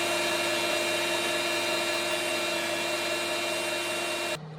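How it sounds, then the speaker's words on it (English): An electric whisk drones steadily as lime juice and zest are beaten into key lime pie filling, a close, continuous motor whine with no talk, stopping at the very end. "Then whisk until thoroughly mixed."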